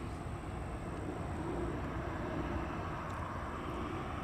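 Airplanes queuing for departure on a runway at Chicago O'Hare, a steady distant jet engine rumble and whine with no distinct events.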